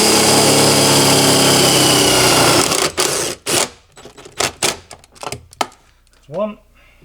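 A power drill drives drill-tip screws while a shelf unit is fitted into a van, giving a loud continuous whir for a few seconds that then breaks into short bursts, followed by a brief spoken remark.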